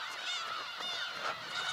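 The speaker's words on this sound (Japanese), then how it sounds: "ウミネコの鳥山もありつつ" Black-tailed gulls calling in a large flock over the sea off Teuri Island, a continuous overlapping chorus of nasal mewing cries heard from a distance.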